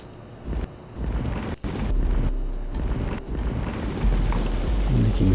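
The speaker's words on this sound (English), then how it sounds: "fire burning noises" Deep, steady rumbling engine roar with a crackling, fire-like burn from a rocket engine on a space shuttle build in Kerbal Space Program, loud and continuous with low-end swells throughout.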